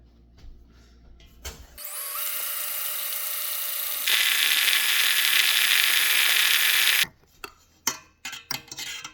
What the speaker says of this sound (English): If you don't have a KitchenAid, you can always use a hand mixer and just beat the living egg white out of it.